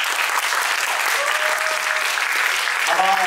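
Dense, steady applause from a high school audience fills the room after a special lecture, loud and continuous throughout, with a voice briefly emerging near the end.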